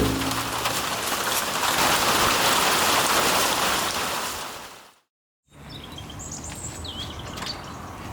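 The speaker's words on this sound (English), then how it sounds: "right then, it started pouring rain" Heavy rain pouring down outdoors, a loud, dense and steady roar that cuts out abruptly for a moment, then resumes with birds chirping faintly through it.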